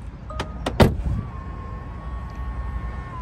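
A Tesla's doors locking on a voice command: a few sharp mechanical clunks in quick succession, followed by a faint steady whine fading under quiet background.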